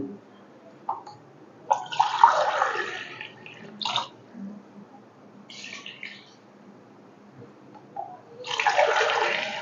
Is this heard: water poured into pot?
yes